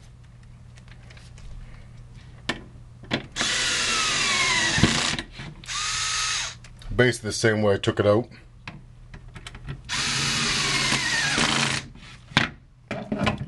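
A cordless drill drives screws back into an HP Q2612A 12A toner cartridge during remanufacturing, in several short whirring bursts separated by pauses, each ending with a clicking clutch ratchet, while someone talks between them.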